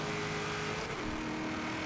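A Corvette passing in the racing game Forza Horizon 3, heard as a steady loud engine roar with a shifting pitch as the car goes by, continuous and close, with no talking.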